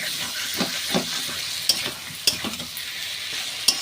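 Potatoes and spices fry in hot oil for a katla fish curry, giving a steady close sizzle with stirring scrapes and a few sharp clinks of a spoon against the pan.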